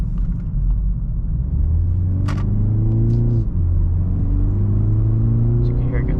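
A 2024 BMW 330i engine in sport mode drones steadily as it accelerates, its pitch climbing, dipping briefly at a shift near the middle, then rising again, loud and continuous inside the cabin.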